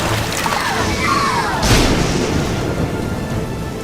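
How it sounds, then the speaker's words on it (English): Steady rain pours throughout with a rumble of thunder swelling about midway, loud and close, under a constant storm wash. "Look, another storm is coming."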